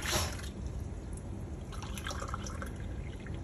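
Water being poured and measured for pickling lemons: a brief splashing pour at the start, then trickling and dripping liquid continues quietly and alone.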